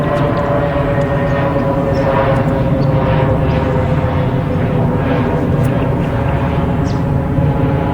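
An aircraft at a country town airport fills the air with a loud, steady engine drone that holds constant throughout.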